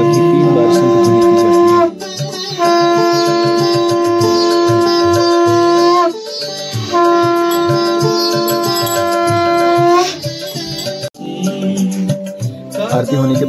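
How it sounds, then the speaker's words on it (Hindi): A conch shell blown three times at the close of a home aarti for Lord Jagannath: long, loud, sustained horn-like blasts with brief gaps between them, followed by softer ringing and clatter at the end. "आरती समापन होने के पश्चात 3 बार शंख ध्वनि की"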